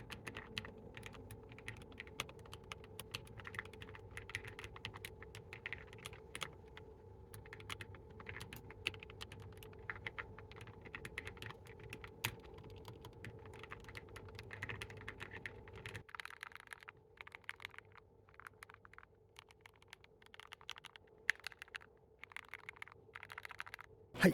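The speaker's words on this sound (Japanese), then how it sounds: "早速なのでキーボードに載せた音を聞いてみてください" Someone types steadily on a mechanical keyboard fitted with Aqua King linear key switches: soft, rapid clacks in an uneven stream, close but quiet, with a faint background hum that drops away partway through, no voices.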